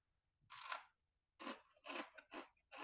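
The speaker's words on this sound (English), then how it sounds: "This guy's super crunchy." Close, crisp crunching in five short bursts separated by brief pauses, bites of crunchy fried plantain being chewed.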